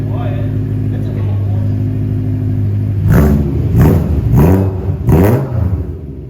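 Straight-piped BMW E92 M3 with mufflers removed idles with a loud, steady rumble, then revs sharply three times, each rev climbing and falling back, close and loud.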